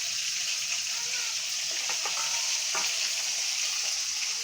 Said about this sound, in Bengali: মাছটা ভাজা হচ্ছে